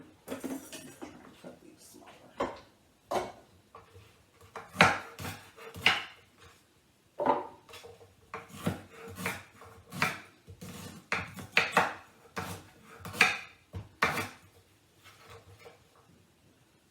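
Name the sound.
chopping ginger on cutting board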